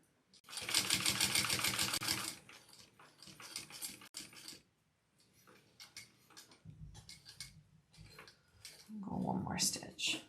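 A sewing machine stitches through a multi-layered fabric bag in short bursts, with pauses between runs of stitching and a voice talking nearby.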